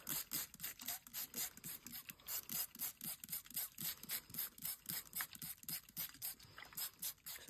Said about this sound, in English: What I'm going to do is going to spray them first.